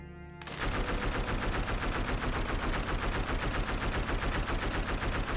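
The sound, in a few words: weapon shooting in the video game Dead Cells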